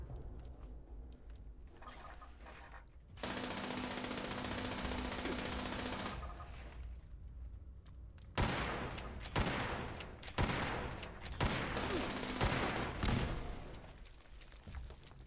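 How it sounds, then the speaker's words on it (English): Laser turrets blasting away in the video game Fallout 76, with a long sustained roar of fire followed by a string of sharp, loud bursts in quick succession. "Laser turrets?"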